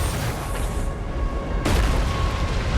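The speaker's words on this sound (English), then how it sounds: "Weapons primed. Fire!" Weapons firing with explosions in Death Stranding 2: On the Beach on PS5 Pro: a rumbling, noisy background broken by a sudden heavy boom that leaves a sustained roar.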